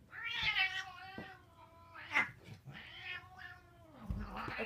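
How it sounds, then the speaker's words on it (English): A cat meows several times in drawn-out, whiny calls, some rising into a caterwaul, fairly faint and alone. "Oh, the cat, I found a really..."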